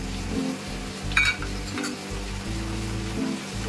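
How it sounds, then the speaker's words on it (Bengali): Ginger, garlic and chili paste sizzling in a pan while cooking aar fish at home, a steady close frying hiss with low stove hum and a brief metallic clink of a utensil partway through. "এর মধ্যে আদা রসুন লঙ্কা বাটা একসাথে আছে দিয়ে দিলাম।"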